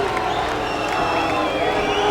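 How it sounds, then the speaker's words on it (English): Arena crowd at a mixed martial arts bout between Anderson Silva and Demien Maia, a dense, steady roar of cheering and murmuring reaction that fills the space, with commentary voices mixed in. "And the crowd reacts."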